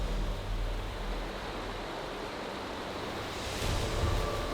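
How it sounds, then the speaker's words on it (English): Fast-moving river water rushes through a steep, slippery ravine in the Alaskan wilderness, a steady broadband roar that swells louder near the end, with wind mixed in. "The water is moving fast."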